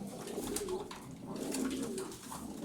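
Crested pigeons coo in low, soft, rolling phrases, several overlapping calls close by with a steady murmur beneath, no talking.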